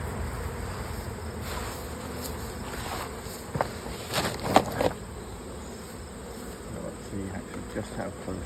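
Honeybees at an open hive buzz steadily throughout, with a few louder knocks and rustles of handling the hive boxes partway through.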